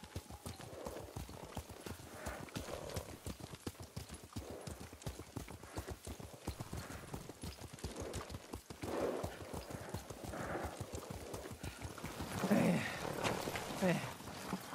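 Steady clip-clop of horse hooves at a riding pace in the Ghost of Tsushima video game, continuous and fairly close, with an occasional whinny and a brief voice partway through.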